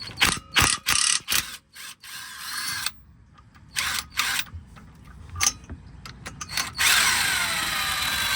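Ratchet with an 18 mm socket working a bolt on a 2023 CFMOTO UForce 1000 during a clutch kit install: bursts of close, loud clicking, several quick runs with pauses between, then a sustained ratcheting run at the end.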